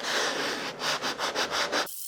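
Folded sandpaper rubbed by hand along a baseboard during an apartment remodel, a steady scratchy rasp followed by six quick back-and-forth strokes, close and fairly loud, then stopping abruptly.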